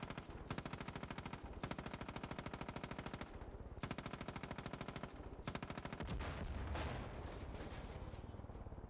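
Continuous automatic gunfire in the video game Far Cry 5, long rapid bursts of shots broken by brief gaps, then a rumbling blast-like wash near the end, loud and dense with no voices.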